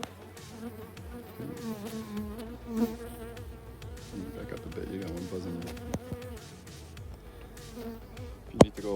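Honeybees buzz steadily around an opened hive during beekeeping, a close, wavering drone with a few louder passes near the microphone and a sharp knock near the end.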